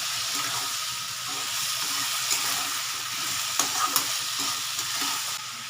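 Pav bhaji vegetables sizzle steadily in a pan as they are stirred, with rhythmic scraping strokes and a few sharp clinks of the utensil over the constant frying hiss.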